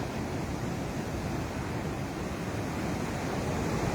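Sea surf rolls steadily against a sandy shoreline where containers from the fallen ship MSC Elsa 3 lie, a continuous broad roar of waves with wind noise, loud and unbroken throughout with no voices.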